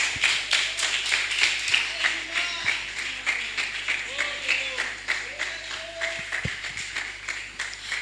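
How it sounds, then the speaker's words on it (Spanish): A church congregation claps and applauds at a service, a moderately loud, somewhat rhythmic round of clapping with voices and a low steady hum running underneath. "Si esos aplausos son para el Señor,"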